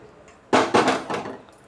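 A kadai set down on a stove, a few sharp metallic knocks and clatters in quick succession, close and fairly loud against a quiet kitchen.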